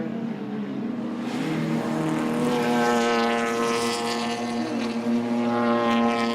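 BMW race cars, including E30s, lap the 3.3 km Bruce McLaren Motorsport Park circuit at Taupo, engines droning loudly and steadily with rising and falling pitch as they pass, no talk over the sound.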